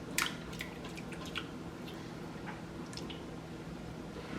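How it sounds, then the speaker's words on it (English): A spatula stirring a wet, soupy home-cooked food mixture in a bowl, giving soft squelching and dripping squishes with a few sharper wet clicks, close and quiet. "just going to take a spatula, mix it in really well."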